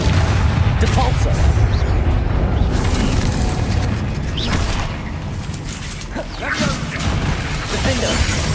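Combat in the Hogwarts Legacy video game, with a dense, continuous wash of booming blasts, whooshes and clatter that never lets up, and no single spell standing apart from the rest.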